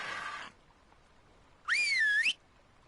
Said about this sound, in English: Oh, you're ignoring group whistles.